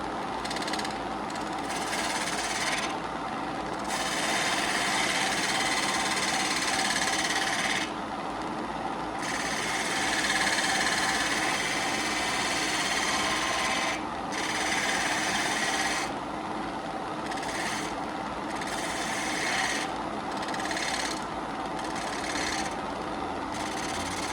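An elm lidded canister spins on a wood lathe while a spindle gouge cuts it, a loud continuous motor hum with a rough, hissing shear that starts and stops in repeated bursts, close and steady with no talk.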